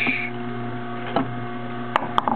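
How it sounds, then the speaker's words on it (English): A juicer motor hums steadily and loudly while pressing a whole head of escarole, running on with a few short clicks and knocks near the end. "stuff went through good, a little bogged down the machine"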